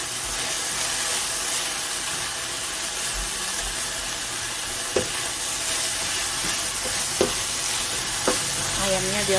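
Chicken pieces fry for nasi goreng in a pan, sizzling and hissing continuously at close range, with occasional scrapes and clinks of a utensil stirring through the food.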